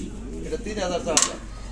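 German Beauty Homer pigeons at a bird market give soft, low coos close by, with voices murmuring in the background.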